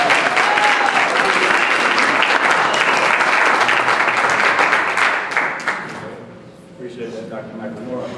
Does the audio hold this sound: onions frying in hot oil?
no